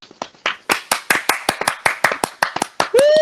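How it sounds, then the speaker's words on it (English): A small group of people clap in a quick, uneven burst of sharp handclaps, close and loud, ending with a brief whoop or whistle-like voice at the very end. "can we get some claps for Bill?"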